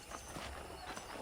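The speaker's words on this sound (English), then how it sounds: "I picked out a fine horse for you." Horse hooves clip-clopping in the video game Red Dead Redemption, a brief, faint run of steady hoofbeats against a soft background hiss.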